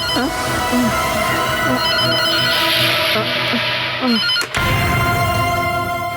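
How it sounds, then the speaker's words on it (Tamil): A telephone rings in a home in a repeating electronic ringtone pattern of short tones, fairly loud and close, with some background voices and a brief break near the end. "போன் அடிக்குது பாரு. போய் எடுமா."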